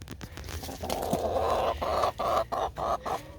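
Hens cluck in a backyard coop converted from a playhouse, a close run of short, rhythmic clucks building to a series of quick, punchy calls.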